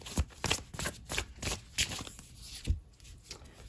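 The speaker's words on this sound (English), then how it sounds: "Let's pull a few more oracle cards." Oracle cards shuffled by hand in a series of quick papery riffles and slaps, close and fairly loud, with no talking.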